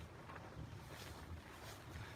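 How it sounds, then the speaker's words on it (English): Strong hurricane winds from Hurricane Florence, gusting around 65 to 70 miles per hour on the Outer Banks islands, roar as a steady, dense rush of wind buffeting the microphone, continuous and loud with no voices. "We're getting hammered 70-mile-an-hour winds out here now."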